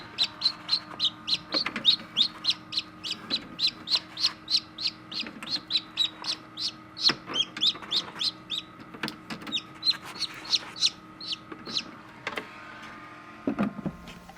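Chicken chicks hatching in an incubator give rapid, high-pitched peeping in quick repeated bursts, close and fairly loud, with a few soft bumps and a low mechanical hum beneath.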